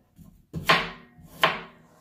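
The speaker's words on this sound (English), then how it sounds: "I'm gonna chop it up in pieces to go in the blender" Two firm knife chops cut fresh ginger root, skin on, into pieces on a cutting board, close and crisp with a brief pause between them.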